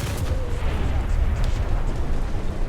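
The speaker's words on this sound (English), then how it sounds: "What happens if I shoot at point blank range?" A Sturmtiger's heavy gun fires at point-blank range in a video game, a dense, sustained booming roar that fills the whole moment.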